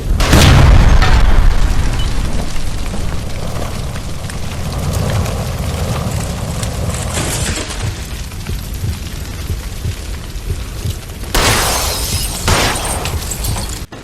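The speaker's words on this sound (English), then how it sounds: "Shoot the gas line, Cole, we're out of here!" A gas line explodes in the L.A. Noire video game: a loud, sharp blast opens the clip, then a long crackling, rumbling aftermath with debris noise. A second burst of crashing follows near the end. No voices.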